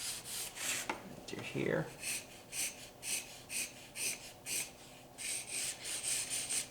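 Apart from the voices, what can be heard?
pencil hatching lines on paper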